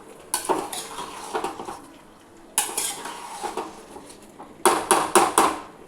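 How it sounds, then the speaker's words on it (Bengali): Potatoes stirred with spices in a pan, a metal spoon scraping and clanking against the pan in three bursts of rapid strokes with pauses between, close and fairly loud over a light sizzle. "এবারে ভালো করে আলুগুলোকে মশলার সাথে সুন্দর করে মিশিয়ে দিই।"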